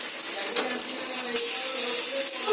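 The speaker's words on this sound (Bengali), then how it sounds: "এবার এগুলোকে ছোট ছোট বলার আকারে ভেজে নিতে হবে" Small egg balls frying in hot white oil in a frying pan make a dense, continuous sizzle and hiss, close and fairly loud for the whole stretch, with a few faint pan clinks.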